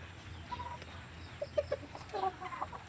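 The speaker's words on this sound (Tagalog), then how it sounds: "Ito yung inahin." Backyard hen near a nest of eggs gives a few soft, short clucks, faint and close, in two small bursts over a quiet hum of outdoor noise.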